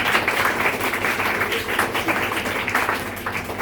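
An audience claps for two children, a lively patter of many hands with rhythmic surges, continuous and fairly loud throughout.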